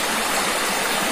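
A river flows steadily nearby where travellers rest, a dense, even rush of water with no break or voice.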